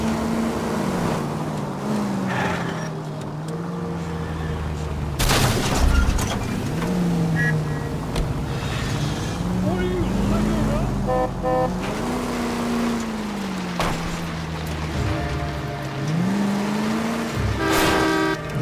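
A car driving in the video game L.A. Noire, engine revving up and down steadily with rising and falling pitch, joined by short horn toots and other traffic noise.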